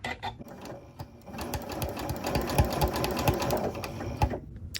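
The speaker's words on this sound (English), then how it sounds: "Clipping the collar to the neckline and stitching." A sewing machine stitches the collar of a shirt made from a lace tablecloth to its neckline, giving a fast, even, close mechanical patter that runs steadily, then stops.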